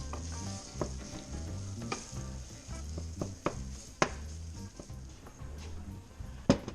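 Crab sizzles steadily in a pan of melted butter with garlic, with several sharp clatters and splashes over the crackle as it goes in.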